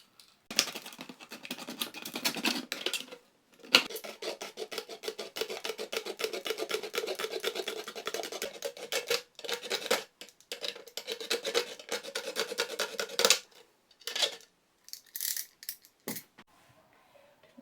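Lace trim being cut for a craft project with a hot-tipped craft knife, giving a steady stretch of close scraping, rasping strokes for about twelve seconds, then a pause and a few short scratchy bursts.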